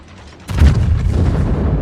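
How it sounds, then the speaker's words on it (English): Heavy battleship guns fire in a World of Warships naval battle, a sudden deep boom that swells into a sustained low rumble of gunfire and rolling blasts, loud and close with no voices. "Shots out on the Georgia."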